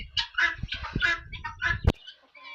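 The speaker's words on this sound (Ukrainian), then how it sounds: "Ось вони ще курочки, які не встигли позаходити тут їдять" Several hens cluck in short, uneven bursts nearby, with a brief sharp knock partway through and soft rustling underneath.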